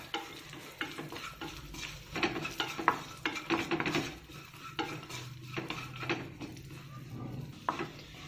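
Dry fruits, including raisins, roasting in a small amount of ghee in a pan on the stove, with a soft sizzle under repeated scraping and stirring of a spoon against the pan, close and fairly quiet.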